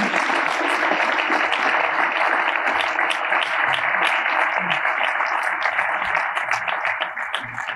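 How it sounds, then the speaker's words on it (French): An audience at a ciné-club event applauds its three speakers, with close, crisp clapping from many hands rolling on steadily for nearly eight seconds without letting up. "on vous applaudisse vous tous les trois"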